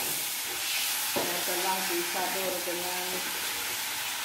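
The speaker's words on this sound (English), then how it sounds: "tadi minyak sudah panas dan saya telah masukkan ketam" Crab pieces coated in cornstarch sizzle and crackle steadily in hot oil in a wok, loud and close, with a person talking over the frying.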